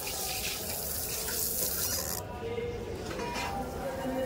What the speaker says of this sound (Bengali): এই যে বাইরে থেকে হাত ধুয়ে নেবো এখন